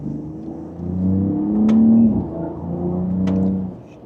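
A twin-turbo 2026 Ram 1500 RHO pickup in sport mode pulls in second gear, its engine note swelling into a steady, rising drone heard from inside the cab, then easing off before climbing again.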